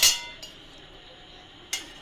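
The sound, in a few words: frying pan being set on the stove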